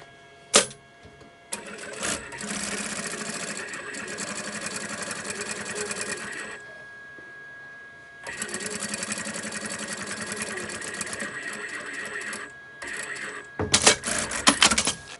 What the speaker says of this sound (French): je viens passer une couture de sécurité